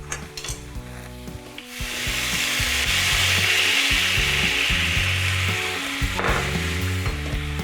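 Vinegar hitting a hot pan of roasting carrots and golden-browned garlic, a steady loud sizzle and hiss that swells after a couple of seconds and holds, with faint scraping of stirring underneath.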